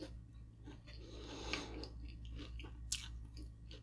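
Someone chews flaky pastry crust of a spinach and feta cheese empanada close up, with soft crunchy bites and mouth sounds over a steady low hum, and a sharper crisp bite near the end.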